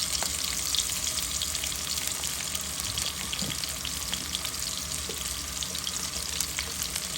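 Onions and sliced green chillies fry in oil in a pan, a dense, even sizzle that holds steady throughout with no pauses or voices.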